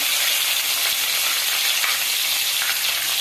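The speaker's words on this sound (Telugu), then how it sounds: "పల్లీలు వేయించి పెట్టుకుంటాం కదండి, తొందరగానే వేగిపోతాయి" Peanuts frying in hot oil make a dense, even crackling sizzle that stays loud and steady throughout, with no voices.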